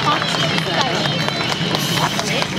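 Spectators applaud at an outdoor motorcycle road demonstration run at a Suzuka motorsport festival, steady dense clapping throughout with an announcer speaking over it.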